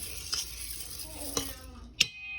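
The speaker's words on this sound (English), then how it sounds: "Stir it again." Sauce is stirred in a pan on a sizzling burner, with a spoon clinking against the pan three times at uneven intervals over a soft, steady fry.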